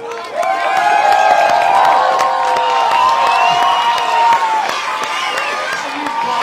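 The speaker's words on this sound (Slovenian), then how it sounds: "izvolite na prizorišče najprej Deželak Junak, prosim en aplavz" A crowd at a gladiator-style challenge show cheers, whoops and shouts loudly and steadily for contestant Deželak, with some clapping mixed into the continuous noise.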